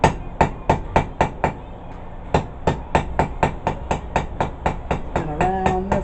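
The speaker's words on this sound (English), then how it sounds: "when you're working stuff this small, just choke up on the hammer" A hammer strikes a small metal piece being forged into a herb chopper, landing in quick, evenly spaced ringing blows. A brief pause breaks the sequence before it resumes and the strikes continue loud and close.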